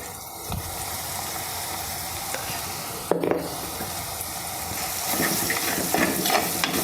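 A spoon stirs turmeric powder into onion, chilli and ginger frying in a pan, with steady sizzling and scraping running throughout, a sharper clatter near the middle, and no talk.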